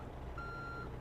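Truck reversing beep while backing up, a single short high electronic tone over a loud steady engine rumble.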